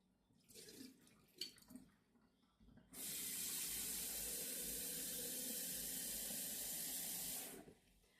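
Hot water gushes from a tap for a rinse, a steady loud splashing rush that starts abruptly after some quieter handling noises and stops sharply about five seconds later.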